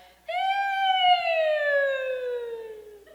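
A voice actor's vocal warm-up imitating a siren: a single smooth sustained tone that rises briefly then glides slowly downward over about three seconds, close and clear in a quiet room.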